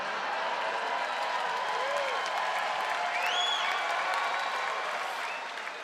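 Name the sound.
audience clapping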